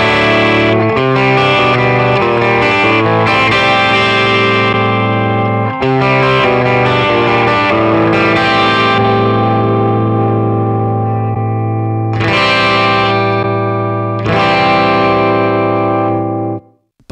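An SG electric guitar played through a Roland Blues Cube Hot 30W Tube Logic combo amp with its tone boost brightening the top end, giving thick, overdriven chords and sustained notes with brief breaks near the end and no talking.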